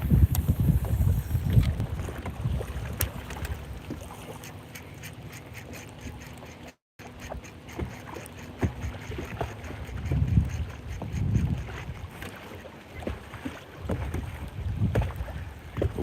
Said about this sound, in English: I've pretty much been spending my time trying to dodge the wind so you guys could hear me.